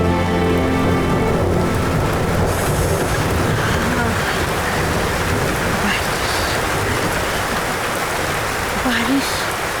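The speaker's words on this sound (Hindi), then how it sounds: "बड़ी बारिश हो रही है" Heavy rain pours down steadily in a scene from a 2013 Hindi film, a dense close hiss of drops on surfaces throughout, with voices speaking over it.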